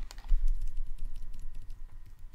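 Close clicking of computer keyboard keys while working in PowerPoint, a steady run of quick taps including a Ctrl and bracket shortcut, with no speech.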